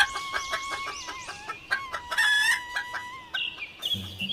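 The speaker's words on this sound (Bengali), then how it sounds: "একদিন এক মোরগ গাছের ডালে বসে মনের সুখে গান করছিল।" A rooster perched on a tree branch crows in a long, loud, rising call amid repeated clucks, followed by a brief burst of other sound at the end.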